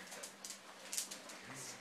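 A dog whimpers outside a house in the rain, giving a few soft, faint whines and yips over a constant low hiss of falling rain.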